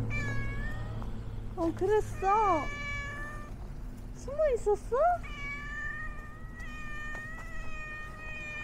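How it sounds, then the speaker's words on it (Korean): A cat meows several times in drawn-out, rising cries, interspersed with a person speaking softly nearby. "아까 만났던 고양이를 다시 수풀에서 만날 수 있었습니다"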